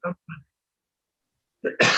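A few short, sharp coughs come in quick bursts, with silence between them and a harsher, louder cough at the end.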